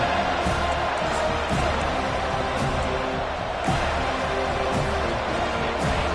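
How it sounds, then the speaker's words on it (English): A stadium crowd roars in the College Football 25 video game during a Florida State game, a dense, steady wall of cheering noise with occasional thumps and swells across several seconds. "listen to the roar of this crowd"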